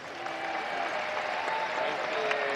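A large audience at the Crufts dog show applauds an agility winner: sustained, even clapping from a big indoor crowd, holding steady from start to finish.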